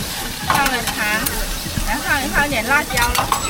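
Eggs, vegetables and onion fry in a pan at a Chinese food stall, giving a steady sizzle with stirring scrapes throughout, while voices talk over it.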